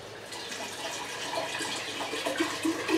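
Water poured from a bottle into corn vodka distillate, a steady splashing, trickling stream, close and moderately loud and lasting the whole stretch, with no talking.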